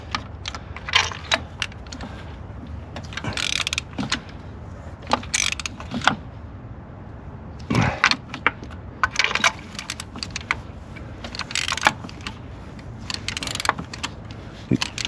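Spark plugs on an Infiniti Q70L 3.7L snugged down with a breaker bar: irregular metallic clicks and clanks of the tool and socket, close and intermittent, with quiet gaps between bursts.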